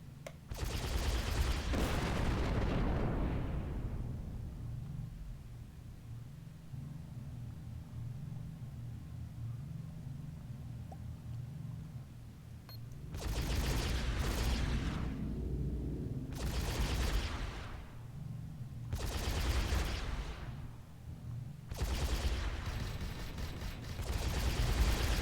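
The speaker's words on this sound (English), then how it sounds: "Somebody just died. I can hear the explosion." Ship explosions in the space game Avorion, heard as a long booming rumble followed by a series of four or five sharp, loud blasts in quick succession, with no talk.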